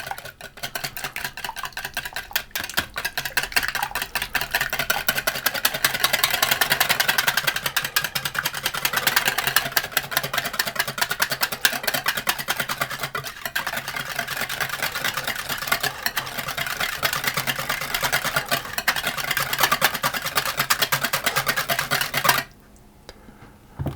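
Eggs, oil, vanilla and yoghurt are whisked together for chocolate muffin batter, a rapid, dense, continuous whirring and clattering for about twenty seconds that stops abruptly near the end.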